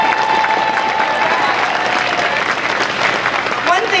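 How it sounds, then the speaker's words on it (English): A big round of applause at the Nevada governor inauguration for Steve Sisolak, loud dense clapping filling an indoor hall, steady and continuous with some crowd murmur. "one more big round of applause"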